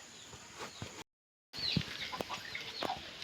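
Several short clucks from chickens close by, scattered in quick bursts with a brief silent gap partway through.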